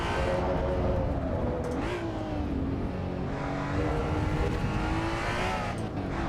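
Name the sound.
race car engine in Assetto Corsa EVO video game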